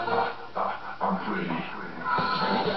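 A blond dog pants in quick, rhythmic breaths close by, with soft whimpering sounds mixed in and a person's voice talking over it.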